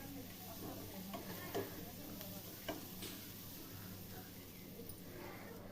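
Curry leaves fry in oil in a pan for a fish curry and are stirred now and then. A faint, quiet sizzle runs under a few light spoon clicks against the pan.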